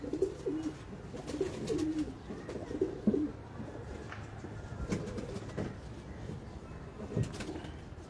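Pigeons from a loft of breeder and high-flyer birds coo in low, repeated warbling phrases at moderate distance, with steady background noise throughout and brief sharper sounds scattered between the calls.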